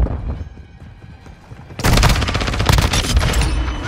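Gunfire in the video game Call of Duty: Modern Warfare 2, heard as a quiet stretch with faint shots, then a sudden loud, sustained burst of rapid automatic fire.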